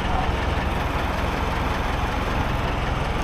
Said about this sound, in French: tous les moteurs qu'on met en route le matin, parce qu'ils vont à l'école à 6 h